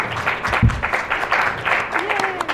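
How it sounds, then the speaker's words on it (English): Audience applause for a podcast panel at Liberty Forum 2018, a short burst of clapping with some voices mixed in, moderately loud and fairly close. "So let's give a round of applause first to Tom, Stephanie, Brian, and Brett."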